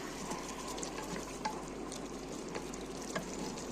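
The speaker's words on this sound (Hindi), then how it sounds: "तो अभी हम पहले मीट को थोड़ा सा फ्राई करेंगे" Meat frying and being sautéed in a pan, a steady crackling sizzle with occasional sharper pops and stirring clicks, close and moderately quiet, no speech.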